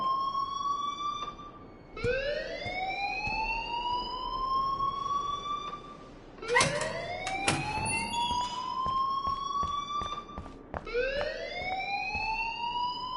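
Alarm in the video game Life is Strange, a rising electronic siren-like whoop repeating every few seconds, loud and steady with faint clatter in between, no voices.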